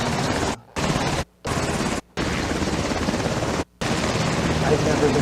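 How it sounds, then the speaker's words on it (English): Helicopter rotor and engine roar, loud and close, with several other helicopters nearby; the steady noise drops out briefly a few times, with talk under it. "look at the other helicopters back there"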